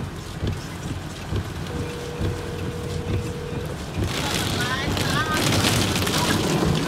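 Gusty wind roars across the microphone during rain at an outdoor Nepali wedding reception in the US, a steady broadband rush that swells louder in the second half as people talk and call out nearby.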